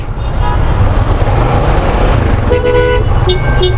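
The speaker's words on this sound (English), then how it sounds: "We got Traffic really backed up." Busy street traffic in Tanta, Egypt, a steady dense roar of cars and engines with several short car horn toots near the end, loud and close.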